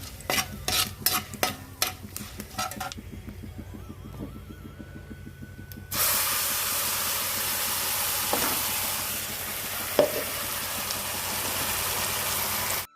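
Skinned urad dal, chana dal, cumin and mustard seeds are tempered in hot oil for coconut chutney, starting with rhythmic stirring clatter and then a steady, sustained sizzle and hiss with a couple of sharp pops.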